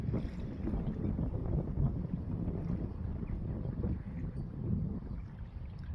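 Steady wind buffeting the microphone in a low, continuous rumble, with a faint watery wash beneath and no voices, aboard a boat transiting the Swellies in the Menai Strait.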